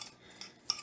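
Stirring shredded coconut with drops of blue food colouring in a bowl for Christmas baking: a few faint, brief scraping clinks of a utensil against the bowl, close and quiet, with no talk.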